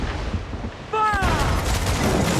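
Ship cannons firing in a naval battle in the video game Assassin's Creed IV Black Flag, a sudden loud boom with a whistling projectile sweep, followed by sustained rumbling gunfire and crew shouts.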